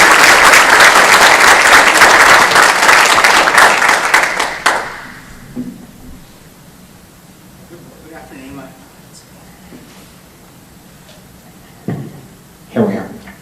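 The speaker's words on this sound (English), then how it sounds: "Let's have a round of applause for them first." Audience at a business power lunch gives the panel a loud round of applause lasting about five seconds before it cuts off, followed by quiet room sounds and a couple of brief knocks.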